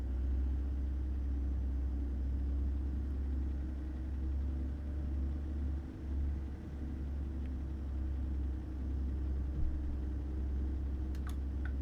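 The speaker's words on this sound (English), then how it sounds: "Let me know if the truck sounds are a bit low for you." A truck engine in American Truck Simulator, driving through Arkansas: a steady, deep, close rumbling drone with slight swells in level, and no one talking.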